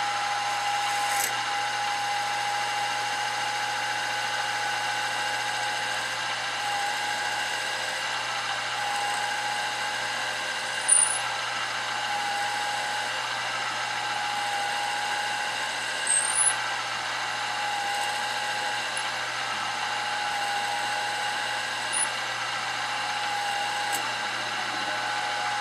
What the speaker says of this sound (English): Five-thirty-second drill bit, we're going to go all the way through.